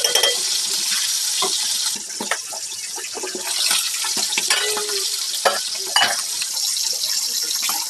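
Fish frying in a pan, a bright continuous sizzle with crackling spits and occasional clatter as the fish is turned, close up, with a brief voice at moments.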